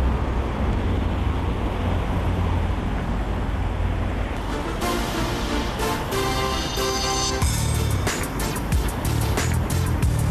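A goods truck reverses on a road beneath a height-limit barrier, its engine giving a loud, steady rumble throughout with traffic noise around it.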